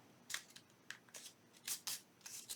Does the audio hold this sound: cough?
no